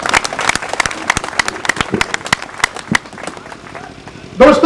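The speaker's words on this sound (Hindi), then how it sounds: "माननीय टीसी सावला जी के लिए एक बार जोरदार ताली।" An audience at a business networking event claps, a dense scatter of sharp individual hand claps that stays fairly loud throughout and ends in a louder burst, with a voice briefly mixed in near the end.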